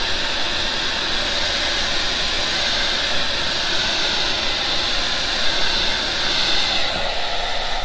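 Air blown steadily across wet alcohol ink to spread it into smoky shapes, a loud, continuous breathy hiss like a small blower running close by for the whole stretch with no talk.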